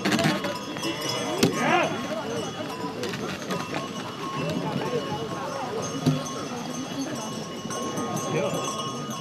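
Horses hauling timber at a revived traditional wood-carting event clop along with their hooves, a light irregular patter heard beneath steady crowd chatter and talk.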